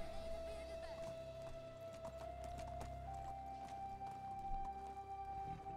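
Horse hooves clip-clop at a steady walking rhythm during a ride in the medieval game Medieval Dynasty, with a constant tonal hum and muffled talk underneath.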